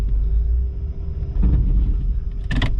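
Heavy low rumble from a 1994 Cadillac Fleetwood 5.7L V8 reversing on a flat tire, a steady engine drone with a couple of brief scraping and clunking bursts near the end.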